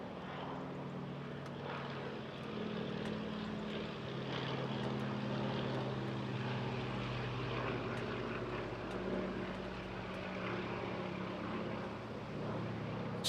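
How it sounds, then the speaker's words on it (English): Propeller aircraft making a final fly-past at the Bournemouth Air Festival, a steady droning engine hum that swells gently in the middle, heard from a distance among crowd ambience without clear talk. "Manoeuvring now for its final fly past."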